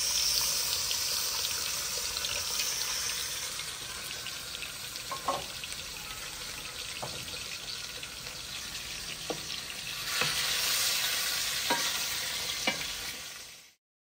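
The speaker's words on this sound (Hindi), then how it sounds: "गोश्त पावांगी, इनू फ्राई करांगी गोश्त में।" Meat (gosht) fries in ghee with onions in a pan, a dense continuous sizzle with periodic scraping stirs, close and loud throughout before stopping abruptly.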